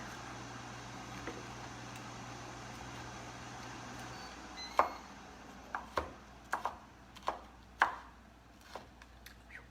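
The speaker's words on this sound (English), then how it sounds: "I'm just gonna cut this bacon up" A knife chops through cooked, still-hot bacon on a board, a series of about eight distinct sharp cuts in the second half, fairly close, over a low quiet room hum with no talk.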